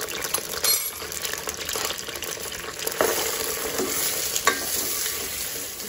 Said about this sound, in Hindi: प्याज को लाइट गोल्डन फ्राई करेंगे